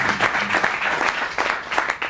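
A burst of applause from an audience, steady dense clapping that stays fairly loud throughout with no voices standing out.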